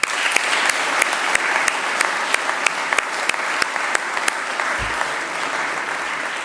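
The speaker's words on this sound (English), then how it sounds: "Let's give them all a round of applause." An audience delivers sustained, evenly dense applause that fills the room, with a few sharp individual claps standing out and a brief low thump partway through.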